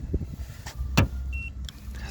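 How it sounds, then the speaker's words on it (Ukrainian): A brief electric motor whir and a soft click as the electric side mirrors of a 2021 Renault Grand Scenic IV fold, with a short mechanical hum in a quiet setting. "Зеркала тут з підігрівами і вони електричні. Вони складуються."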